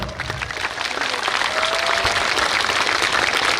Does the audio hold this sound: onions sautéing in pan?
no